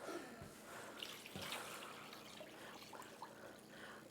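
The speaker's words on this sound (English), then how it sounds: "we're gonna add a bunch of water." Water poured into a pot of chili with beans on a home kitchen stove, a steady splashing trickle running the whole time at close range, with no talk over it.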